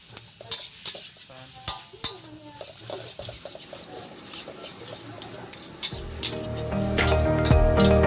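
Mie goreng noodles stir-fried in a new wok, with a spatula scraping and clinking against the metal and steady sizzling that swells louder toward the end, up close and without talk.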